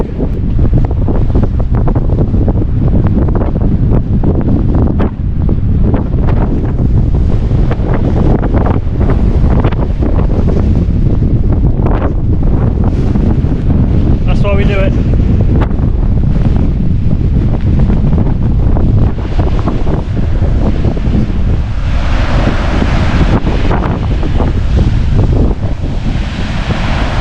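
Strong coastal wind on the North Cornwall coast path roars and buffets the microphone continuously, with surf washing in the background; a brief spoken remark is heard.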